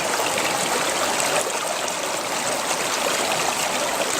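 Water runs steadily through a 3-foot River Bed Hog fluid bed sluice for gold prospecting, a continuous close rushing wash with no talk.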